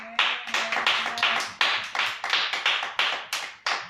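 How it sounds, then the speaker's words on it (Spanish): Church congregation applauding together, a dense run of claps in rapid uneven bursts that swell and fade, close and loud, with a brief voice tone at the start. "vamos a darle un aplauso a Jesucristo"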